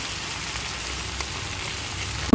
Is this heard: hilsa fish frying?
yes